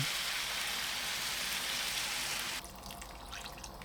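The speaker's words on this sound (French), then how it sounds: "Je mets les moules et les crevettes décortiquées et le bouillon." Mussels, peeled shrimp and broth poured into rice in a pan for a seafood and chorizo rice dish, a steady rushing splash of liquid that stops abruptly, leaving a quiet sizzle with faint bubbling.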